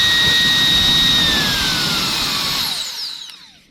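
A Meco mini air blower whines loudly at high speed with a rushing airflow, its pitch sliding as it winds down and fades near the end.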